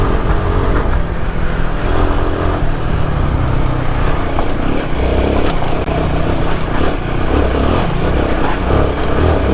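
A Royal Enfield Himalayan 450 motorcycle accelerating on the road, with a steady, loud engine drone and broadband wind noise that runs through the whole stretch without pauses.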